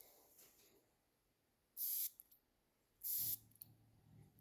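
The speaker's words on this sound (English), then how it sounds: "So give this one a spray." Two short bursts of perfume sprayed from a big atomizer, each a loud hissing puff lasting about a quarter second, separated by a brief pause in an otherwise quiet room.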